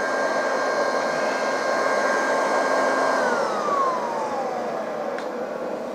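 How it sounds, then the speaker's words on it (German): Hair dryer powered from a WCS Combi power unit blows with a steady whining hum, then its tone slides downward as it is switched off and spins down, with no talking. "Ich schalte jetzt wieder den Föhn ab."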